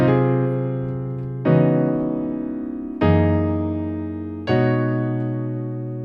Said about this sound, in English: I'm going to play section 5 for you very slowly to eliminate any confusion